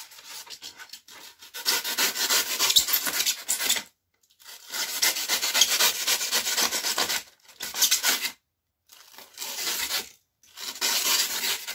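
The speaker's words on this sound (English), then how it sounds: "we get a bit of fine grit sandpaper and we just give the top a little sand" Fine-grit sandpaper rubs across the top of a hardened expanding-foam tabletop hill, a dry scratchy scraping in several close bursts of back-and-forth strokes with brief silent gaps between them.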